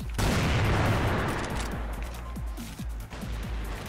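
Barret sniper rifle fire in the CrossFire video game: a loud blast opens, then a dense flurry of gunfire and crashes that thins into scattered sharp shots over a low rumble.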